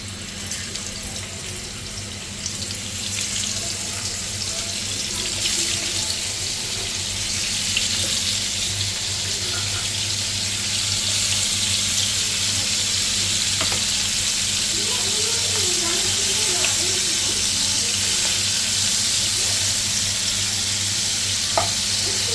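Spice-marinated boal fish frying in oil, a steady close hiss and sizzle with a faint watery trickle running under it throughout, no talk.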